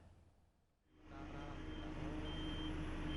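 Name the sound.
trucks and heavy equipment working at a cemetery site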